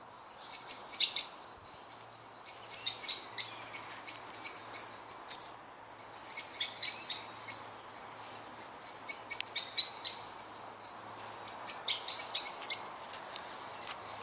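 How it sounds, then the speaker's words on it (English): Birds chirp and tweet in repeated bursts of high calls, with a low steady hum beneath, an evening chorus at moderate distance. "the birds are like nesting for the night, or settling for the night"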